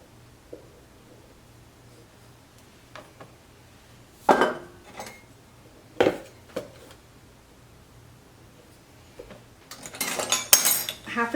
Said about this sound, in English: We're going to mix up our dry ingredients first.